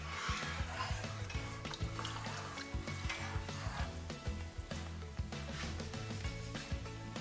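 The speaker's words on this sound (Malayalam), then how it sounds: "നന്നായി ഇളക്കി കൊടുക്കുക." Vegetable rice with coconut milk is stirred in a pot, a continuous close sizzling and scraping with irregular spoon knocks, steady and moderately loud throughout.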